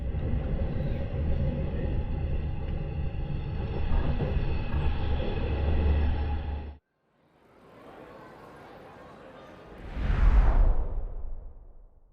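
Night train leaving Stockholm: a steady loud rumble inside the carriage cuts off abruptly, then a whooshing surge builds and peaks as the train enters a tunnel.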